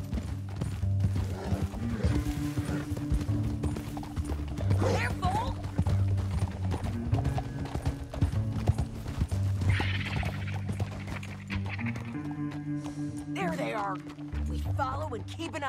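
Horse hooves clip-clop steadily in Red Dead Redemption 2, with a neigh and creaking tack mixed in, all under ongoing game dialogue and background music.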